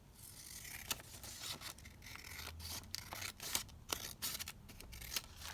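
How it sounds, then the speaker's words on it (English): Scissors trim the edge of a paper flip pad in a quiet craft setting, a series of soft close snips and paper scrapes at an irregular pace, faint overall. "let me just trim that down at the edge"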